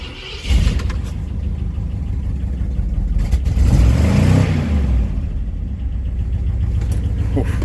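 A 1966 Ford Galaxie V8 with a noisy lifter and heavy blow-by cranks and catches, then settles into a loud, rough, rumbling idle that runs steadily close by.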